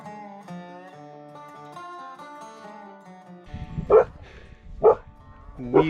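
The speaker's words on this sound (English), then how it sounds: "Ginger's barking." Ginger the dog barks at a mountain memorial site: three sharp, separate barks, close and loud, come right after a stretch of soft melodic music fades out.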